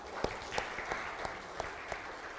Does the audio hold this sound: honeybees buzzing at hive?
no